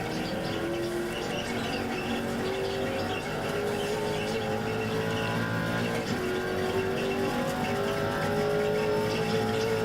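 A GTC race car engine in the iRacing sim drones at sustained high revs, a loud continuous whine with gradual pitch shifts as it runs close, no voices.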